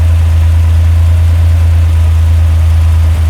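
A 1966 Kaiser Jeep CJ5's Dauntless odd-fire 225 V6, a 3.7-litre engine, idles steadily up close, a loud deep low rumble holding even throughout with no voices.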